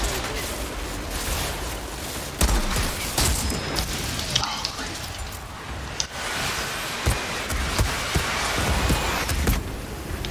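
Gunfire in the shooter game Outriders, a dense run of sharp shots and impacts over a busy battle din, with a voice talking at times.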